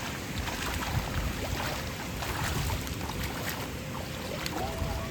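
Strong floodwater rushing during heavy monsoon rain in a Konkan village, a dense, continuous roar of turbulent water close by, steady throughout with no clear pauses.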